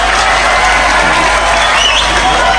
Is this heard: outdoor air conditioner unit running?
no